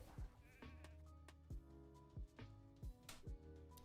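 Sheep bleating in a video game arena fight, a steady bleat under game music with sharp repeated hits and effects landing roughly every half second.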